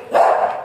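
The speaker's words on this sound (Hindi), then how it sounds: "सारे के सारे कुत्ते आ गए," A group of dogs gives a single short, loud bark up close.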